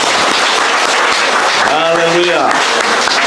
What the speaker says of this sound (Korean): 우리 아버지께 영광의 박수 드립니다